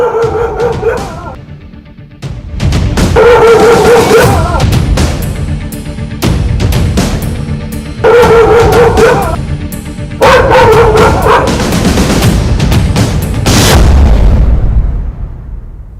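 Stray dogs in Bihar's Begusarai area bark loudly and repeatedly in clustered volleys, several animals overlapping in close, aggressive bursts.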